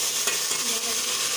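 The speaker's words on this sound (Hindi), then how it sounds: "दस मिनट तक इसकी भुनाई करेंगे।" Onion, ginger and garlic fry in hot oil with a dense, continuous sizzle, close and loud, and a light stir or two comes through the crackle.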